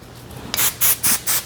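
Hair is back combed with a comb in four quick, close raspy strokes evenly spaced after a half second of quiet.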